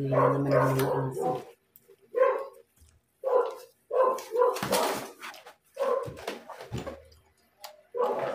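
Close, loud barking from a dog comes in repeated bursts with short gaps, with no talking, heard during a mukbang of pork adobo and fried fish.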